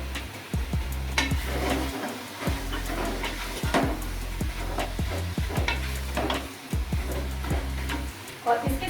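Softened onions go into a pot of beef stew over a medium flame and are stirred in, giving repeated scraping clanks of a spoon against the pot over a light sizzle, while a voice talks alongside.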